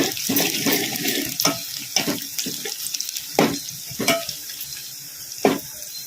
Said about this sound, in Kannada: ಈಗ ಇದಕ್ಕೆ ಒಣ ಮೆಣಸಿನ್ಕಾಯಿ ಹಾಕೋಣ ಕಲಿಸ್ಕೊಂಡ್ಬಿಡೋಣ